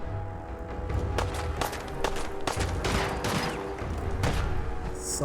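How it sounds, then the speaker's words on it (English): Gunfire in Fallout 4 played in VR, a run of scattered sharp shots and bursts over a steady game background rumble, with footsteps mixed in. "Saw the gunfire this time."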